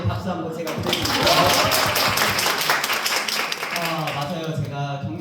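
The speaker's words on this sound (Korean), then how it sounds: "정근사님께 박수 한번 제가 드리겠습니다." An audience at a Korean skin-care lecture gives a short burst of applause, dense clapping that swells and then fades out, with a voice heard over it near the end.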